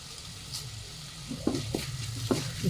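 Cumin and fennel seeds hit hot oil with a steady, soft sizzle and crackle, with a few light scraping stir sounds near the end, no talk.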